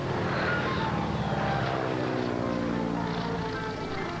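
Steady drone of a small training airplane engine in flight during a lesson, a constant moderately loud hum with no breaks or voices.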